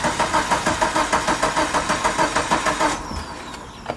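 A Mitsubishi Evo 8 engine cranking on the starter for its first start in eight years, a loud rhythmic churning of even strokes that stops abruptly, leaving quiet background and a brief clunk.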